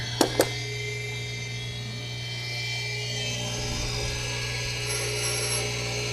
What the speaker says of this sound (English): Polish this up a little bit, get rid of our burrs.